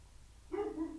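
A dog barks once in the background, a short, fairly loud yelp that starts midway and then stops, with no other sounds around it.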